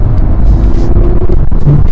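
Porsche GT3 with a Fabspeed Supercup exhaust in PDK Sport mode, a loud, steady, deep engine and exhaust drone heard from inside the car, with no clear break for a shift.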